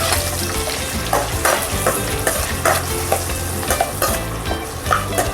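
Diced onions sizzle steadily in a hot pan, with a utensil scraping and stirring through them in repeated close strokes over the constant frying hiss.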